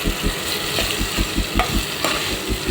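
Tomato pieces frying and being stirred in a pan while cooking drumstick curry, a steady close sizzle broken by repeated scraping stir strokes, no voices.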